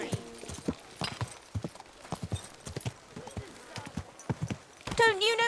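Clip-clopping hooves of a horse in Kingdom Come: Deliverance II trot nearby in a medieval town, with irregular sharp hoofbeats under townsfolk shouting and talking, and a whinny-like burst near the end.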